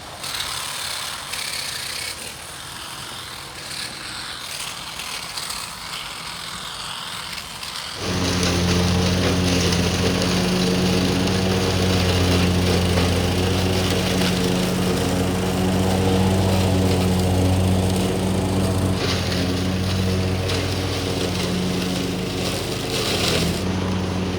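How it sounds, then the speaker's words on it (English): Troy-Bilt riding lawn mower with a 46 inch deck starts up and runs with a loud, steady engine drone and blade whir close by for most of the stretch, after a quieter outdoor opening. "I definitely put this mower through some abuse today"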